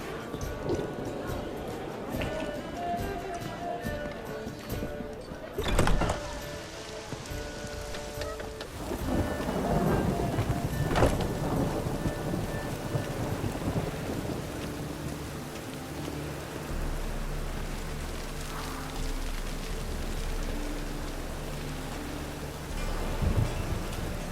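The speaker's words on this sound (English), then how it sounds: "A storm, damn it." A thunderstorm in The Witcher 3: Wild Hunt, with steady heavy rain and wind under loud thunder cracks and rumbles, one sharp clap early and another rolling burst in the middle, while voices talk over it at times.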